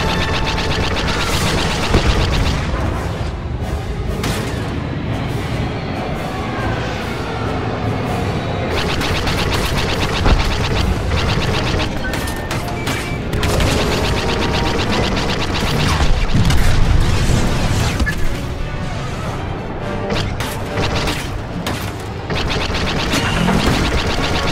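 Blaster fire and explosions from a space battle against TIE fighters in Star Wars Battlefront 2 form a dense, loud, continuous barrage of rapid shots and deep booms with no pauses.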